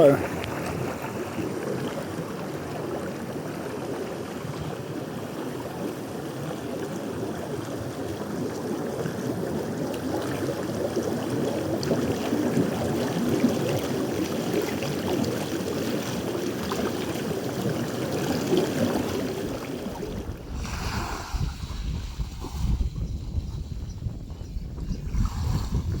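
Water bubbles and rushes steadily in a seaside hotel infinity pool at Blue Bay, Egypt, a continuous close wash of noise that shifts to a sparser, splashier texture near the end.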